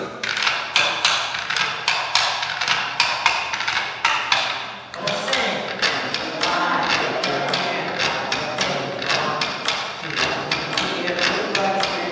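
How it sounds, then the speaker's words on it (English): Rapid, loud rattling clacks as a stick is scraped across the teeth of an animal jawbone, in a steady rhythmic pattern, with a brief pause midway before the clattering resumes. "The instrument he played was the jawbone"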